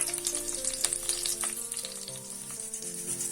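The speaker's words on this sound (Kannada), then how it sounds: "ಇವಾಗ ತೆಗೆದಿಟ್ಕೊಂಡಿರೋ ಗೋಡಂಬಿನ ಆಡ್ ಮಾಡ್ತಾ ಇದ್ದೀನಿ" Cashews frying in a tempering of hot oil with popping mustard seeds and curry leaves, a steady quiet sizzle with faint crackles and some light stirring, heard up close without speech.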